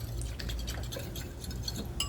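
Cornstarch and water slurry stirred in a small bowl or glass, soft close clinks and liquid swishing with faint drips, quiet and continuous.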